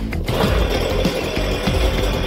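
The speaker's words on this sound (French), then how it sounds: "Une tronçonneuse." Loud, close engine roar of a running chainsaw, steady and rough with slight pulsing, no talking.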